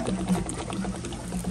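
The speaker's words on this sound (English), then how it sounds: "You will get a gush of water out of this because this is the lowest part of the tank." Water gushes from the lowest drain of a water heater tank during an anode replacement, a continuous hissing, splashing pour at moderate level.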